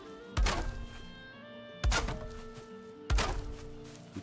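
Building pieces being destroyed in the Valheim video game, three separate hollow thunks spaced about a second and a half apart, each fairly loud against a quiet background, no talking.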